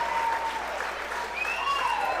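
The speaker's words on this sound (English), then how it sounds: "Brings the partisan crowd to its feet." A partisan crowd at a 22U national championship baseball game applauds and cheers a great catch for a double play, sustained clapping with scattered whistles from the stands throughout.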